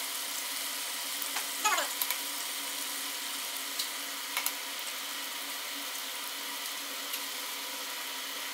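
Six eggs cracked into a pan sizzle with a steady, quiet broad hiss, with a few faint clinks and small pops near the start and no voices.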